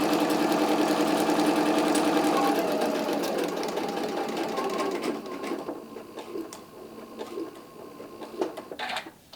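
A sewing machine stitches fabric for an Easter basket, a fast steady mechanical whir close by that slows and stops partway, followed by quieter clicks and handling sounds.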